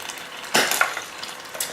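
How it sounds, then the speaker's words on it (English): Chopped onion hits a preheated frying pan of olive oil and water, a sudden hissing burst of sizzle that settles into a steady, soft crackle with faint stirring, close and alone. "I'm gonna put it in a frying pan now, where I've preheated a little bit of olive oil and water."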